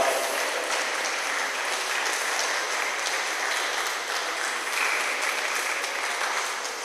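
Steady applause from a forum audience at the Sahel Peace Initiative National Forum, dense and sustained clapping from many hands throughout with no voices standing out.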